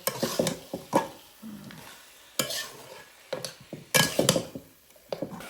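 A spoon scraping and clattering inside a cooking pot of gourd curry, in irregular bursts of stirring with a soft sizzle between strokes, close and fairly clear.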